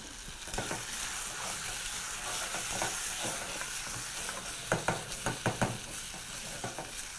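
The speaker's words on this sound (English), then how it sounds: "Now proceed to just mix that. Allow that to continue cooking." Biryani tinted with red food color and turmeric being stirred in a pot, a steady low sizzle with a run of sharp spoon scrapes and knocks toward the end, close, no talk.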